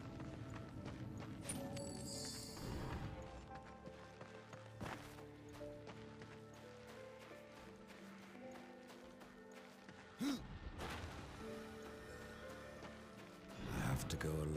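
Horse hooves clip-clop in the video game Darksiders II, a rhythmic clatter under game music and a voice speaking, with a few sharper thumps toward the end.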